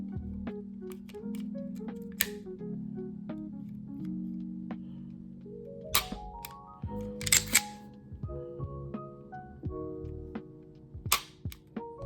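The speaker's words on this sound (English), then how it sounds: "There goes your mag release." Sig P365 Macro pistol being handled with an empty chamber, giving a series of sharp metallic clicks and clacks, including the magazine release, close up against a low steady hum, with no talking.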